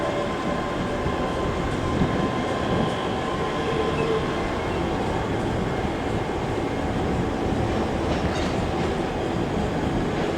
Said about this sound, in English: off now is 385108, leading the 1315 service to Glasgow Queen Street.